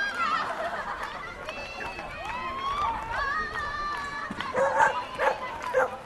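A dog shut in a cage at an outdoor market barks, yips and whimpers repeatedly in close, excited bursts, with people talking in the background.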